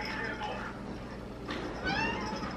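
A cat meows a couple of times nearby, the cries rising and falling over a steady background hum.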